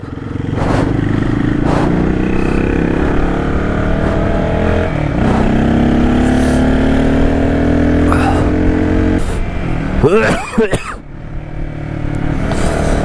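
A KTM 690 rally-kitted motorcycle engine drones loud and continuous while riding on a mountain route, rising in pitch under acceleration, with clattering knocks and wind noise throughout.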